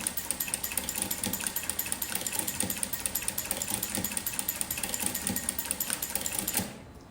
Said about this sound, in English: Now it will ruffle for me at every 6 stitches.